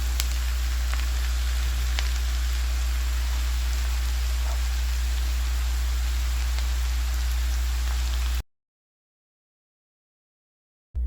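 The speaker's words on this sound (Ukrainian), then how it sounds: "Смажитиму допоки не випарується вся волога." Mushrooms with onion, salt, pepper and dried garlic fry in a pan, giving a soft, steady sizzle with faint crackles that runs about eight seconds before cutting to silence.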